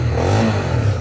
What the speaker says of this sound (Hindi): इसका एग्जॉस्ट सुना देता हूँ।